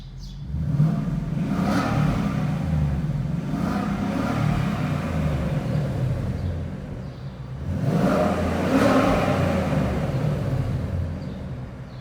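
A 2019 Ford Mustang GT with a Corsa Extreme active exhaust in quiet mode revs up twice, each a muffled, moderately loud rise and fall in engine pitch over a steady low idle rumble.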